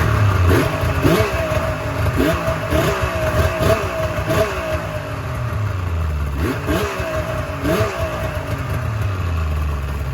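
A 2004 Dodge Viper engine runs steadily while warming up, a loud, close, throbbing idle with a lumpy rhythmic pulse and occasional slight revs throughout.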